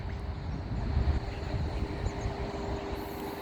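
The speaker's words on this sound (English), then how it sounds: "And there's the train right there." Sydney Trains T-set train at Waterfall station, a remote stop, giving a steady low rumble and wind-like roar throughout with a faint sustained tone, no talk.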